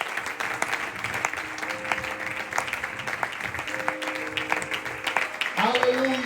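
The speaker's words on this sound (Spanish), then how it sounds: "Fuertes aplausos al Señor" A church congregation gives loud applause to the Lord during a worship service, steady clapping filling the room for several seconds, with some voices in the background.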